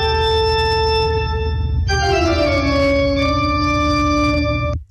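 An original Bach classical piece plays from a recording as sustained, harmonically rich tones that shift to a new chord partway through and continue steadily until an abrupt stop.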